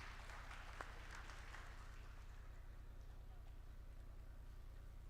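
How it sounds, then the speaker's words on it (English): An audience at a lecture session claps for the speakers, a faint, distant patter of applause that is fuller at the start and thins out, over a low steady hum. "let us give them a big round of applause for their nice talk"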